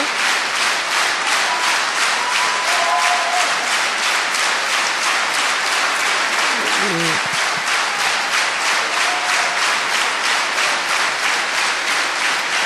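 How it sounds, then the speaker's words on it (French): Concert hall audience at the Queen Elizabeth International Music Competition in Brussels applauding the finalists, sustained clapping that settles into a rhythmic, unified beat, with a few faint voices underneath. "Ils sont applaudis aussi par leurs 6 coreligionnaires classés en haut de tableau"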